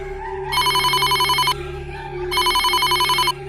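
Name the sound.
phone ringing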